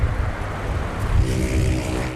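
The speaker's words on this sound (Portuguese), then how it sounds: "Repare que a rodovia está movimentada" Vehicles stream along a busy highway in a constant, loud roar of traffic. The whoosh builds midway as a nearer car passes.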